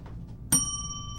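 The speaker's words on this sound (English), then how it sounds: "The bell and..." A single bright bell strike rings out sharply and then sustains a clear, slowly fading tone over faint background murmur.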